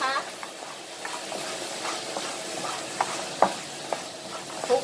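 Crispy fried grouper gets tossed in a pan with dry seasoning, producing a soft, steady sizzle with scattered scrapes and light knocks of the utensil against the pan.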